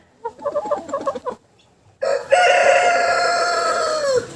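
A quick run of soft clucks, a short pause, then a long, loud, drawn-out crowing call from a young Cochin chicken close by.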